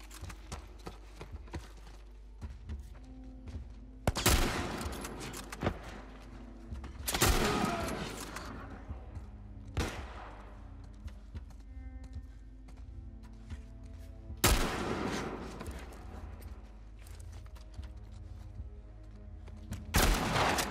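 Shotguns fire in The Last of Us Part I, with about five sharp, loud blasts spaced several seconds apart over quieter game ambience and scattered small clatters.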